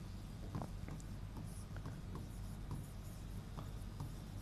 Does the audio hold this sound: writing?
yes